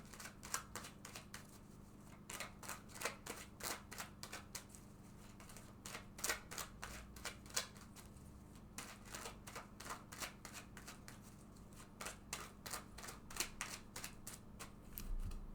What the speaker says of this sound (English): I'm going to shuffle this deck several times